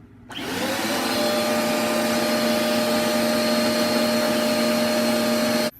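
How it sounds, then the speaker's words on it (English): Vacuum cleaner cleaning the bobbin area of a sewing machine, switching on abruptly and then holding a loud, steady high whine with a strong tonal hum until it cuts off at the end. "grab your vacuum cleaner and vacuum the area"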